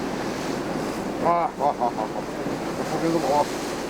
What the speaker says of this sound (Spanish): Aunque las olas golpean con fuerza, la noche de hoy es la apropiada.